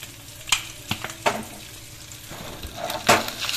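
An egg fry with sprinkled pepper stirred in a pan, soft sizzling under a few sharp scrapes and clinks of a spoon against the pan. No one speaks over the cooking.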